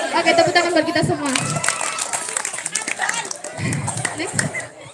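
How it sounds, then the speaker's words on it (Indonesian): Applause and cheering from a live audience at a game-themed stage event, broadband clapping noise that fades, then returns with chatter and talk mixed in. "Oke, tepuk tangan buat kita semua."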